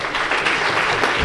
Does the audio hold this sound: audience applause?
yes